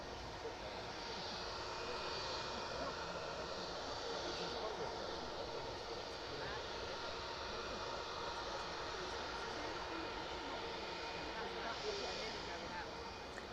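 A fixed-wing aircraft lines up on the runway centre line at East Midlands Airport in the evening, its engines giving a steady, distant hum at low level throughout, with faint talk over it.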